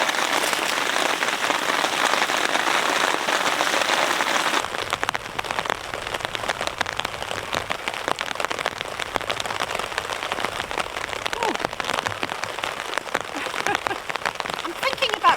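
Heavy rain pours steadily onto a tent at a camp, a dense close hiss that drops somewhat in intensity after the first few seconds and continues with scattered drops.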